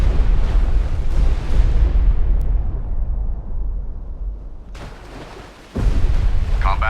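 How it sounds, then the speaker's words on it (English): Depth charges from a destroyer hunting a U-boat in a naval video game burst in heavy, booming explosions with long rumbling decay, then a fresh deep blast near the end. "Ready depth charges. Shallow pattern. Fire 2."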